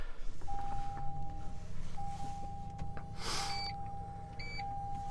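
Steady electronic beeps from seat adjustment in a 2023 Toyota pickup, one long tone repeating with short gaps, plus a few higher chirps, over a low idling engine rumble inside the vehicle.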